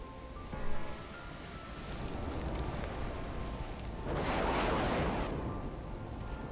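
Naval 2-inch guns firing in the warship game Ultimate Admiral Dreadnoughts, a muffled distant boom followed by rolling, rumbling bursts of gunfire and a swelling roar like nearby shell impacts.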